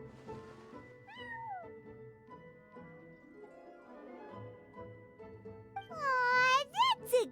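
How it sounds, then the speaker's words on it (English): A cat in the video game Genshin Impact meows over soft, sustained background music, with a couple of quiet early mews and a louder run of drawn-out meows near the end. "Aw, that's a good kitty, Sir Pouncelot."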